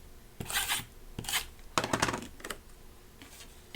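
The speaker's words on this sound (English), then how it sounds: "So now when I take this piece, I will put tape all over the back." Tape being applied to the back of a paper card piece during simple card making: several short bursts of crinkly, scratchy tape and paper handling, close and fairly quiet, with no talking.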